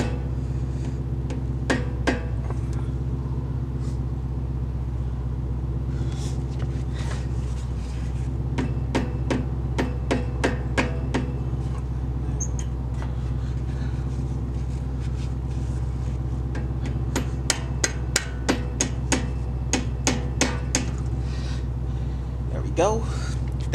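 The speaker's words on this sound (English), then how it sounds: "Just basically hammer back from the inside." Sharp metallic tapping strikes come in irregular clusters over a steady low mechanical hum, close by and moderately loud, as Brembo front brake pads on a Honda Civic Type R FK8 are hammered back from the inside.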